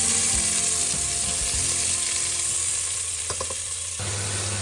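Onion frying in a pan for a homemade gravy-style curry, a dense continuous sizzle with a few soft knocks and stirring sounds, close and steady throughout with no voices.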